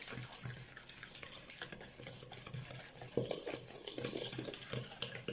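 A utensil stirs cookie dough in a bowl, mixing the ingredients with vanilla sugar, a soft continuous scraping and swishing that grows a little stronger partway through, close and faint, without talk.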